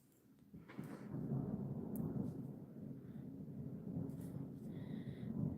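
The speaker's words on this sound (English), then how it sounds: "The thunder and stuff. And the thunder rolls." Thunder rolls during a storm, a faint, distant low rumble that swells after a quiet start and keeps grumbling steadily, with small scattered crackles above it.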